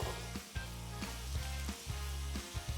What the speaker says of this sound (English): So to this, we are going to add our peppers, onions, and garlic back in.